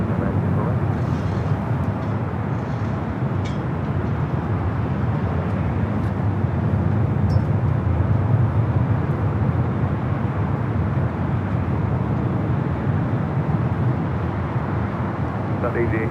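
A Boeing 737-800 airliner at LAX produces a steady, loud low jet engine roar that fills the whole stretch without letting up, with faint radio chatter and voices in the background.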